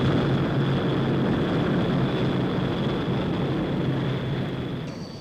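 A Hawker Siddeley HS125 business jet roars steadily with a whining engine tone, loud and continuous before easing slightly toward the end.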